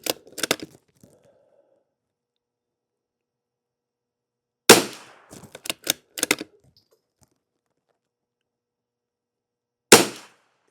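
Rifle shots with CCI Subsonic ammunition ring out as sharp, isolated cracks, three separate firing bursts spaced several seconds apart with quiet gaps between, close and fairly loud.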